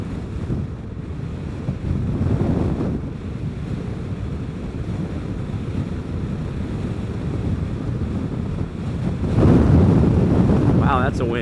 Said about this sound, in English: that's a wind gust, almost knocked me down